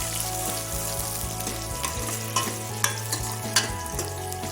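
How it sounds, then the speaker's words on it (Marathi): Chopped onion frying in a pan for a green pea aamti, hissing steadily up close while a spoon scrapes and turns it in irregular strokes. "आणि आता यामध्ये मी लगेच कांदा टाकून घेत आहे चिरलेलं"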